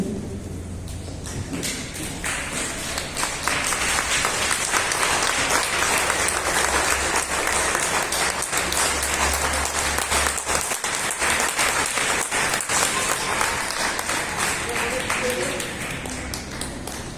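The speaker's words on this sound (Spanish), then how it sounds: "Pónganse de pie y vamos a darle un aplauso al Señor." A standing congregation gives loud, sustained applause at a church service, a thick wall of clapping that swells after a quieter start and carries on for over fifteen seconds, with crowd voices mixed in.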